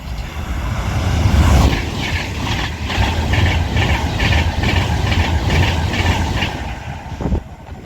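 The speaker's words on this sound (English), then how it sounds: "Now passing through is going to be another Avanti West Coast Class 390 Pendolino" An Avanti West Coast Class 390 Pendolino bound for London Euston rushes through Acton Bridge station on the West Coast Main Line, a loud sustained roar with rhythmic wheel clatter over rail joints as it passes close by.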